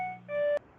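An electronic door chime sounds a short two-tone beep, a lower steady tone sliding into a higher one, ending with a brief click, clear and alone.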